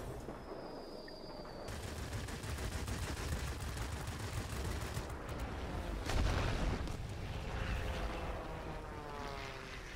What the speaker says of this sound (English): drop a bomb up here